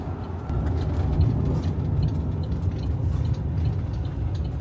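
Steady road rumble of a car driving along a highway in Western Australia, heard from inside the cabin as a continuous low drone with no talking.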